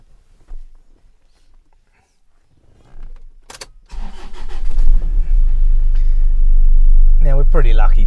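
A car engine turns over and catches after a few quiet knocks and a brief voice, then settles into a loud, steady running rumble as the vehicle pulls away, with a faint whine rising near the end.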